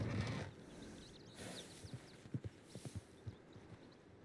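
Horses' hooves clip-clop in Red Dead Redemption 2, a faint run of evenly spaced hoofbeats that grows slightly clearer partway through against a soft outdoor background.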